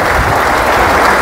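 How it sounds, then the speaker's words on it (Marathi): A crowd applauds at a farmers' meet of a co-operative power and agro processing society, a dense, loud wash of clapping holding steady throughout. "सर्वांनी जोरदार टाळ्या वाजवायला पाहिजेत."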